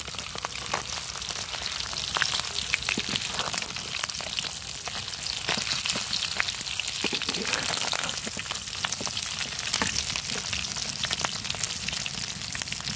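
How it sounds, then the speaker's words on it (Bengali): Fish eggs (roe) frying in a pan, a steady dense crackling sizzle with scattered sharp pops throughout, fairly loud and close, with no talking over it. "এখন আমি ডিমটিকে ভেজে নিতেছি।"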